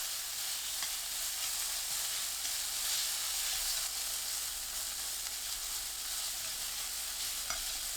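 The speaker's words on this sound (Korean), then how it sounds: "팬을 정리하고 올리브유 1큰술, 당근 넣어 중불로 1분 볶습니다" Carrots stir-fry in olive oil in a pan over medium heat, a close, even hiss of sizzling that holds steady for the whole stretch with only faint stirring beneath.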